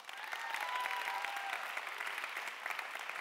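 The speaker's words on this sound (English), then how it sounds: "big round of applause for Caitlin for being such a gem." An audience at a talk on creating a bestselling course breaks into steady, sustained applause, a dense wash of clapping from many hands that stays fairly even throughout, with no voices over it.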